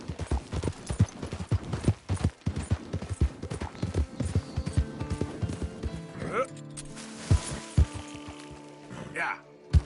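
A horse gallops in Red Dead Redemption 2, rapid rhythmic hoofbeats thudding close, with a whinny and a voice talking over the run.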